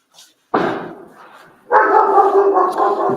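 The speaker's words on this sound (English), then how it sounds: "she'll still bark every time a banger goes off" A pet dog barks indoors at home, two loud close barks with the second held longer, no talk over them.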